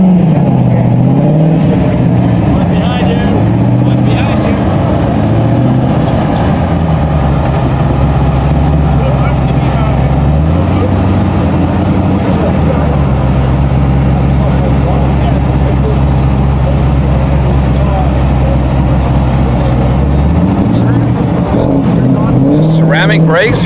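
A custom turbocharged and supercharged Ford Mustang engine drones loudly and steadily, rising and falling in pitch through repeated revs, with people talking nearby over it.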